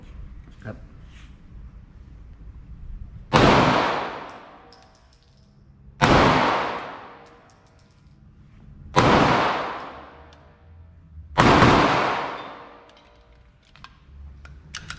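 Four sharp, loud pistol shots from a fast sport competition pistol fired on a range, evenly spaced about three seconds apart, each with a long ringing decay and a quiet background between them.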